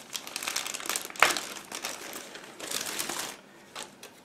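A plastic bag holding a plastic model kit sprue from a Tiger Model 1/35 Nagmachon kit crinkles up close in a run of dry, papery rustles with one sharp crackle, heard alone.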